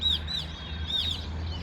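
Small green birds give a few bright chirps, two short pairs of clear calls over a faint steady background hum.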